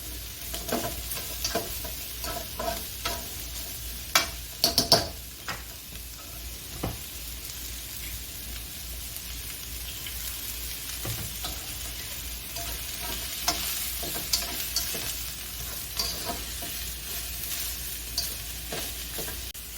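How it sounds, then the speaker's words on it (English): Mushrooms and shallots sautéing in a pan for chicken marsala, a continuous soft sizzle broken by scattered clicks and scrapes of a fish spatula stirring, no talk. "So we're going to cook these mushrooms and the shallots a bit"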